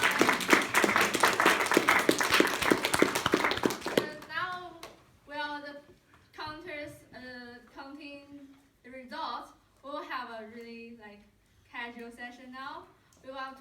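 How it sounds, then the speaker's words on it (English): Audience applause at a Toastmasters-style international speech and evaluation contest in Bristol, a broad burst of clapping for about four seconds that gives way to a speaker talking. "let's give them a round of applause"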